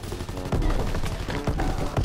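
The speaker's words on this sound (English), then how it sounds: "Did you hear that headshot?" Rapid bursts of gunfire from the Call of Duty WWII video game crackle loud and close, shot after shot in quick succession with no voices over them.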